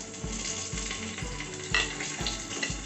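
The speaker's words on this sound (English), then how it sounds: "I have kept a cooker, added 2 tablespoons of oil and 2 tablespoons of ghee, that's clarified butter. Now we will add our whole spices" Whole spices sizzle in oil and ghee in a pressure cooker, a steady hiss broken by regular scraping thumps as they are stirred, close and without talk.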